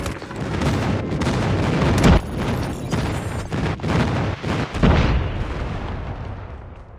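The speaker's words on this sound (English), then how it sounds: "Friendly airstrike incoming." Airstrike explosions in Call of Duty Mobile, a loud rolling barrage of booms with several sharper blasts punctuating the rumble, fading out toward the end.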